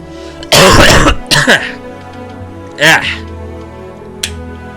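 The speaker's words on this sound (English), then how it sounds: "Don't know why I'm coughing so much." Several harsh coughs and throat clearings, one long burst followed by shorter ones, close and loud with brief pauses between.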